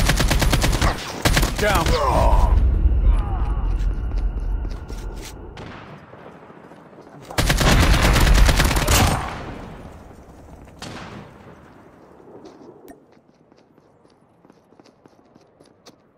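AK47 fire in a video game match, two long loud bursts of rapid automatic shots separated by a pause, followed by fainter distant shots and a brief spoken word.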